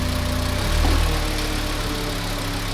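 A VW 2.5 engine idles steadily at close range as the car rolls off ramps, a steady low rumble that swells briefly about a second in.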